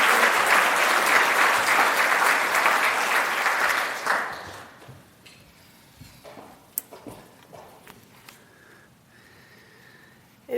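Full round of audience applause at a 2024 scholarship luncheon, dense clapping for about four seconds before fading out, followed by quieter room noise with a few scattered sniffs and small bumps.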